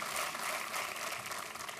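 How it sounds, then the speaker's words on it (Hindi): Studio audience applauding steadily on a Hindi TV quiz show, Kaun Banega Crorepati, a dense continuous patter of clapping throughout with no voices over it. "एक बार फिर तालियों के साथ"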